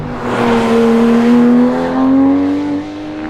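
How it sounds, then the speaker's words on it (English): A Porsche 911 R sports car engine revs up loudly nearby, its pitch climbing and dipping in a smooth, throaty surge before settling. "Wow, really great response from this engine."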